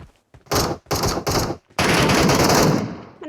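Bursts of automatic gunfire from a player lying prone in PUBG Mobile's Metro Royale mode: three quick close bursts, then one longer sustained burst, loud and with no talk over it.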